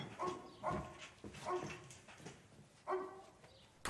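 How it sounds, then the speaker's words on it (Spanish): A dog barks repeatedly indoors, five or six sharp, moderately loud barks at uneven intervals with quiet gaps between them. "¿Por qué ladra así ese perro?"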